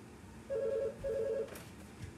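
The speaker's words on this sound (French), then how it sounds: "Attendez, j'arrive, je décroche le téléphone." A telephone rings with two short electronic trilling bursts in quick succession, close and clear, followed by a faint rustle.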